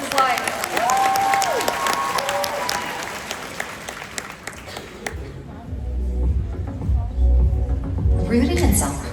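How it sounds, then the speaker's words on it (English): Large convention crowd in Las Vegas for a Riman beauty company event applauds loudly and steadily for several seconds under a voice, then fades as deep throbbing music swells in. "let's give this video a big round of applause"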